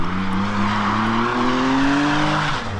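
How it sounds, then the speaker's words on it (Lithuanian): A BMW drifts nearby, its tires squealing loudly as the engine drone rises in pitch, and the sound holds continuous and close the whole time. "Treška, braška, padangėlės."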